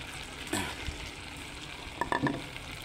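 Ginataang langka with dried fish stirred in a pan just after pepper goes in, a soft steady sizzle with a scrape of the spoon and a few light clinks near the end.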